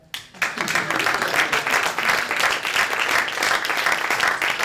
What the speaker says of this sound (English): please clap for her